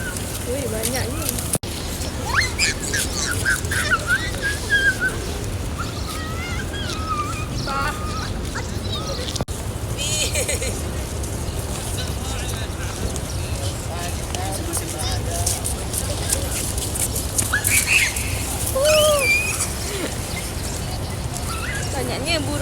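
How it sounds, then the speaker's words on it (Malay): Many birds chirp and call at the Prophet's Mosque in Medina after dawn prayer, scattered calls rising over a busy open-air din while people talk nearby. "Banyaknya burung kat sini."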